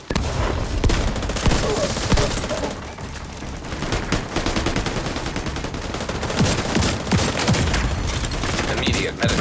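Sustained automatic and rapid gunfire from a shooter in The Division 2 video game crackles without pause, loud and dense, with bursts layered over booming game effects throughout.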